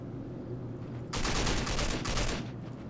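Rapid gunfire in the shooter game RAGE peppers the ground in a dense, loud automatic burst lasting about a second after a quieter background hum.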